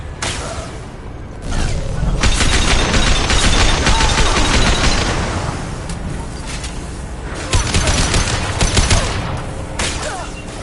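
Gunfire in the video game Mass Effect 2, dense automatic bursts crackling loudly in repeated volleys, with a couple of short pauses and combat effects around them.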